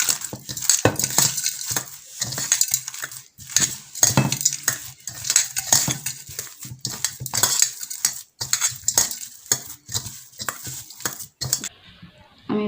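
Rice is mixed by hand or spoon with crushed fried lentil dumplings and cumin powder in a metal dish, giving repeated irregular scraping and clinking bursts, close and fairly loud, no speech.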